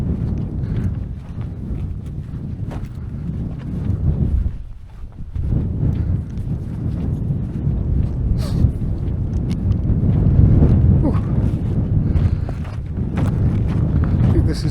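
Gusty wind buffeting the microphone on an open heath, loud and continuous with rising and falling rumbling gusts and a brief lull midway.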